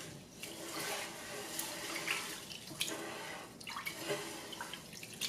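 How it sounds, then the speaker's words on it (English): Water swishing and sloshing in a pot as rice is rinsed by hand, with soft irregular splashes at close range. "Put the rice in the pot, put water over it, and just move it around."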